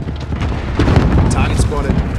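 A rocket fires and explodes in a Call of Duty: Modern Warfare match, a loud, rumbling blast with a lingering booming tail, with game chatter mixed underneath.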